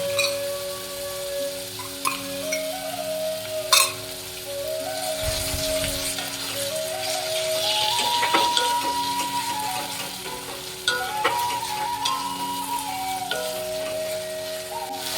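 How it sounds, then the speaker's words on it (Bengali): Onion and ginger paste sizzle steadily with spices in a hot pan for a Bengali fish curry, a continuous loud frying hiss with a few sharp clinks of a spatula against the pan. "দেখো, মশলাটা ফ্রাই করে নিচ্ছি, পেঁয়াজ আদাটা ভালো করে।"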